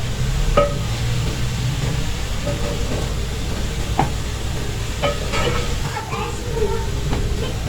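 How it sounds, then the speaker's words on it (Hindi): Chopped fenugreek leaves are stirred into cooked masala in a pan, a steady low frying hiss broken by scattered scrapes and taps of a spoon against the pan. "अब ये मेथी डाल देंगे इसके अंदर सारे, इसको अच्छे से मिक्स कर लेंगे।"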